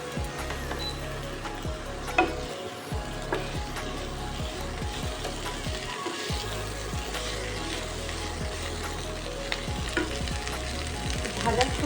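Chopped green chilies and tomato frying with cabbage in a pan, a steady close sizzle with intermittent stirring scrapes and clatters, no voices.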